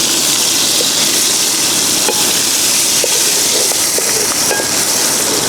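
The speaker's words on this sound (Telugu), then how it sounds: "ఇప్పుడు అల్లం ఎల్లిగడ్డ పేస్ట్ వేసుకుందాం." Ginger garlic paste frying in a pan of oil with green chillies and stone flower for a fish curry gives a steady, loud hiss with scattered crackles throughout, and no voices are heard.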